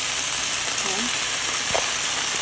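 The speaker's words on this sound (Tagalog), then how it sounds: "So, pagkagisa natin, ay, lalagyan naman natin yung mushroom na maliliit." Small mushrooms sauté in a hot pan, a steady, loud hiss of sizzling oil throughout with faint stirring and a brief voice mixed in.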